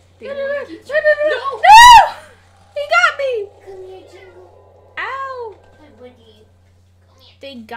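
A chunky, heavy house cat meows several times in a row, fairly loud and close, one sharper high cry in the middle, with gaps of quiet between calls during gameplay.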